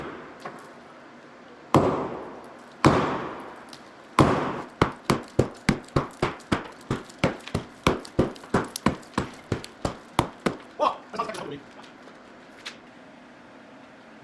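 A sledgehammer pounds a mortared brick wall: a few spaced heavy blows, then a fast, steady run of about twenty sharp, ringing strikes that thins out toward the end.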